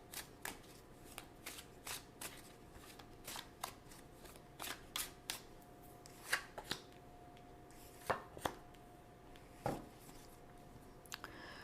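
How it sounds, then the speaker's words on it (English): Tarot cards shuffled and two drawn for a reading: soft, close papery taps and riffles in an irregular rhythm, with a few crisper snaps standing out over a quiet background. "So now let's choose 2 cards for guidance."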